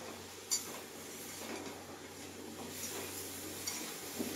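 Cut, washed potatoes tipped into a pan of cooked spice masala for a homestyle fish curry, then stirred: soft scraping and faint sizzling with a few sharp metal clinks of the spoon against the pan, quiet and close.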